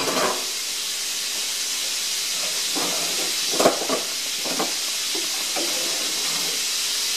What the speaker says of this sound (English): We are going to clean saute these and get them nice and soft.